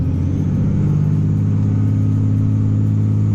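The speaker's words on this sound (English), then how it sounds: "Let our clutch out with a little bit of throttle." A manual-transmission car engine pulls steadily under throttle after an upshift into second gear, a continuous close, loud rumbling drone with a slowly rising pitch and no voices.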